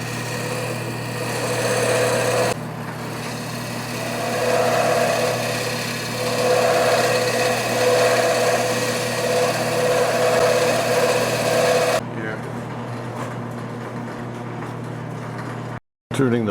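A wood lathe spins a workpiece while a ball for a furniture finial is turned, a loud steady mechanical whir with a tonal hum that cuts out abruptly near the end.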